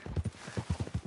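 Hooves of a ridden horse in Red Dead Redemption 2 clop in a steady, quick rhythm, soft and low, with no talk over them.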